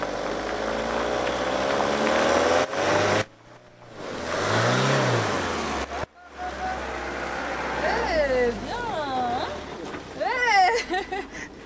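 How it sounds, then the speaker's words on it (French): A van stuck in mud revs hard while backing up to gain momentum, its engine whining and rising in pitch with wavering surges, cut by brief drops, and voices talk and shout over it. "il va reculer Vic pour le laisser un peu reculer et reprendre de l'élan"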